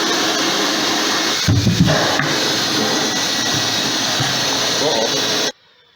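A vacuum pulls air through a cyclone pail dust collector with a steady, loud whooshing roar, a brief rumbling surge partway through, before the motor cuts off abruptly near the end.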